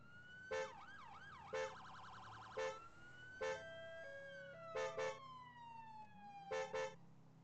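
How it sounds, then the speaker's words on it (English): Police emergency vehicle siren in a roleplay video game server, a rising and falling electronic wail with overlaid short yelp bursts, loud and close, repeating through the clip with no voices. "every division has its own sirens, apart from 999 and community policing"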